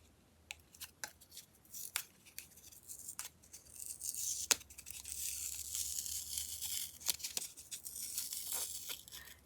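Paper being torn off a package in a quiet room, a series of short rasping rips and crinkles scattered irregularly through the stretch, close to the microphone and fairly loud, with no one talking.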